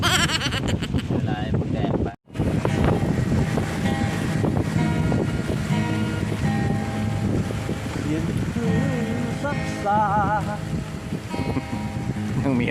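Strong wind sweeps across an open rice field at night, roaring steadily as broadband gusts batter the microphone, and someone talks over it almost throughout.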